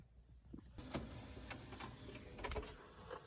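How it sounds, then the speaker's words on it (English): A printer runs in a home, its mechanism whirring and clicking in short uneven bursts at a quiet level over a low background hum. "The printer's going."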